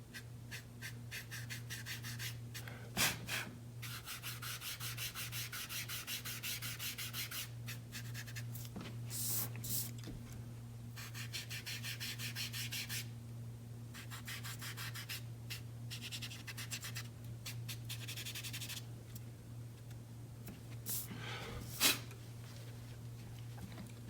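Charcoal being rubbed and smudged across paper while drawing a 3D letter M, a steady soft scratchy friction with brief sharper strokes, close and continuous beneath a low background hum.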